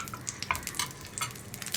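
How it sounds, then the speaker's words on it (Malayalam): A teaspoon of ghee sizzles in a hot pan with crackling pops and scraping stirs, close and moderately loud, with no talking. "അതേ പാനിലേക്ക് തന്നെ ഞാനിപ്പോൾ 1 ടീസ്പൂൺ നെയ്യ് ഒഴിച്ചിട്ടുണ്ട്"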